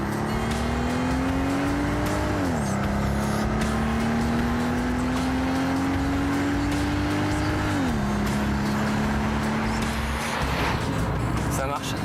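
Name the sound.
Mercedes SL 65 AMG Black Series engine driving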